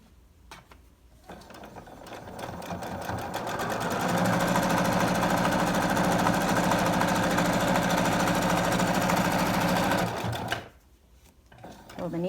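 A sewing machine stitches a fabric face mask, its motor ramping up into a fast, steady rattling whir for several seconds before stopping, with someone talking softly before and after.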